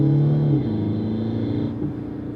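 A Mercedes CLA fitted with a THOR Active Sound system drives on the road, its synthetic engine note a close, loud, throbbing rumble that eases slightly as it goes.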